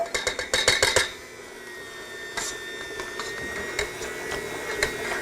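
An electric mixer whipping softened Philly cream cheese with an egg mixture for tiramisu, opening with a run of rapid clattering knocks, then a steady whirring motor hum with occasional rattles.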